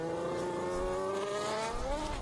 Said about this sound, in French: il y a quelques pilotes qui commencent à rouler, ça y est, les AlphaTauri notamment